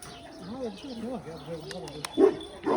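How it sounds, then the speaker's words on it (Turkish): A dog barks and whimpers in short yelps, with people talking and birds calling in the background. "Dışarıda köpek var."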